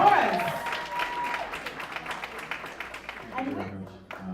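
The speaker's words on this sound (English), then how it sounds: "Give them a round" Audience applause at a women's excellence awards ceremony, steady clapping throughout with a voice speaking over it near the end.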